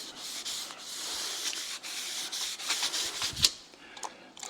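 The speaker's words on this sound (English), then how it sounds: "Just give this a good scrub so it neutralises that metal conditioner" Water scrubbing along the side panel of a van being repaired for rust around the windows, a steady wet rubbing swish with uneven strokes, close and alone with no talk.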